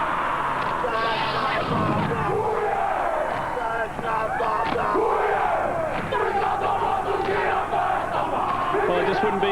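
A Maori haka war chant performed by a group at the Pukekohe V8 Supercars round in New Zealand, with loud rhythmic shouted chanting and crowd noise continuing steadily throughout.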